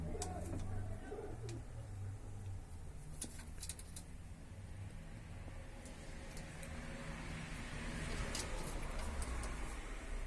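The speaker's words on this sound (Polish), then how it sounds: "Są to fajne gołębiaki" Domestic pigeons kept in a breeding loft coo softly and continuously in the background, with faint scattered chirps and a low hum of distant road traffic.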